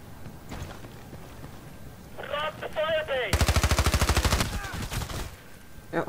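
Rapid automatic gunfire in Battlefield Play4Free, a long, evenly spaced burst, loud and close, preceded by a warbling electronic tone and some scattered shots.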